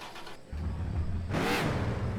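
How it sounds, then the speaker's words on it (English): A V8 car engine in the video game Car For Sale Simulator roars up as it revs, a steady low growl rising to a sweeping surge near the end, loud and close with no talk. "Oh, listen to that V8."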